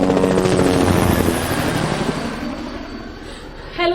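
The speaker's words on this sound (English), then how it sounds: "Helicopters now" A helicopter in a radio drama scene thunders loudly overhead with steady, rapid rotor chop, holding strong before easing off slightly as though moving past.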